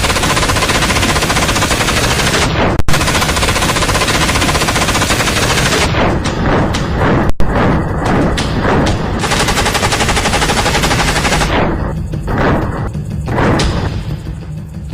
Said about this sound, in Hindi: जवानों को मिलेंगी सबसे आधुनिक गन।